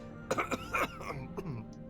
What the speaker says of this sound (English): Oh, he's coughing.